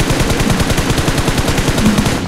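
M416 rifle spray in a video game: a loud, unbroken stream of rapid automatic fire with an even, fast rhythm lasting the whole couple of seconds.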